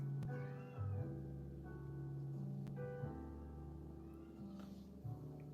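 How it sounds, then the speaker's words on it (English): A cat meowing, part of a song or from a neighbouring apartment: a faint drawn-out meow or two sitting inside steady background music, with no one talking. "I hear a cat in this song."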